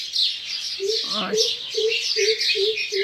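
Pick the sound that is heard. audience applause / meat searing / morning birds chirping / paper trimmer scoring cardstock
morning birds chirping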